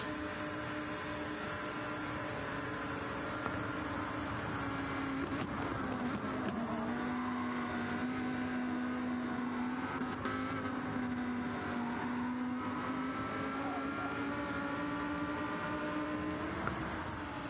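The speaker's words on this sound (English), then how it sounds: "Love the sound of these cars," Racing cars in a racing game drone steadily with sustained engine tones that shift pitch slightly as they run, a continuous mid-level roar with no talk.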